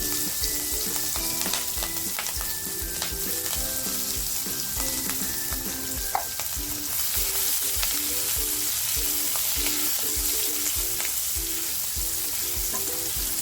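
Chopped green chillies dropped into hot oil for a spring onion dish: loud steady frying sizzle with a crackling hiss and intermittent clinks, close and continuous without talk.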